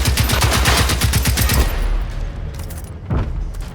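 Rapid automatic gunfire in the video game Generation Zero rattles off in a dense, loud burst for about a second and a half, then fades into a rumbling tail with one more muffled thump near the end.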